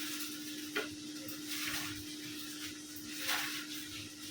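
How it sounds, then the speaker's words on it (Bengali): Garlic and dried fish fry gently over low heat in a pan, a soft continuous sizzle with periodic stirring scrapes swelling and fading, close but quiet. "রসুনগুলো দেখেন কেমন আস্তে আস্তে আর আস্তে আস্তে ভাজা ভাজা হইতেছে"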